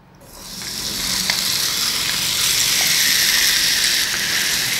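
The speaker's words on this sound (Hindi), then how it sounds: "पनीर और सब्जियों को मैरिनेट करके रखा था उसे भी हम तवे पे सेक लेंगे" Marinated paneer and vegetables sizzle loudly on an oiled griddle over high heat, a steady continuous frying hiss that swells in the first moment and holds close and strong throughout.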